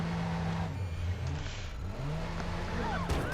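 A car engine revs and accelerates in the video game Watch Dogs, a rising and falling motor drone mixed with traffic noise and faint beeps, moderately loud, with some speech-like sound partly over it.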